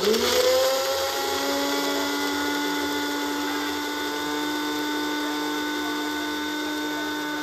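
A mixer grinder whirs steadily as it grinds ten to twelve green chillies with a little water into paste, a loud, even motor whine that starts with a brief surge and then holds constant for the whole stretch.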